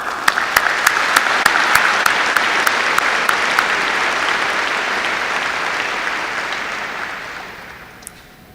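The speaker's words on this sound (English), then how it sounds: "A warm hand of thank you and applause." An audience at a medical school commencement claps loudly and steadily, a dense wash of applause with a few sharp individual claps, slowly fading toward the end.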